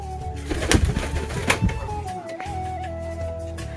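Pigeons at a pigeon house coo in soft, low, repeated calls, with fluttering and background noise mixed in.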